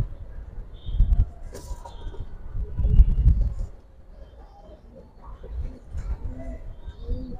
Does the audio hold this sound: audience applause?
no